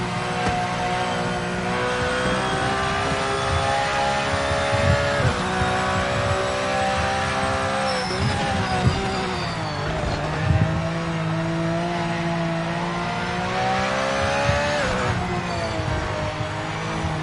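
A Porsche race car in the Project Motor Racing sim holds a steady, loud engine drone, with pitch dips and shifts as it brakes and locks up near the end. There is no talk.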